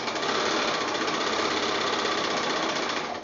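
A sewing machine runs steadily while stitching the seams of a pieced quilt block, giving a continuous, even, rapid mechanical whir at close range that eases off at the very end, with no talk.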